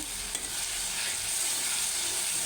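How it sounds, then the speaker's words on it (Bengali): Chopped onion, garlic and ginger fry into a masala in a pan with a continuous bright sizzle and occasional stirring scrapes, close by and steady throughout, with no voices. "দিয়ে মশলাটা একটু কষিয়ে নিলাম"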